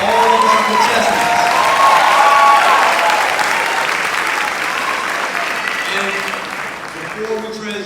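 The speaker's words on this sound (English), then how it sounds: "give a round of applause for all of our contestants" Loud applause with some cheering from a large audience at a beautillion gala for the contestants, a thick continuous roar of clapping, with voices in the crowd and the ovation easing slightly toward the end.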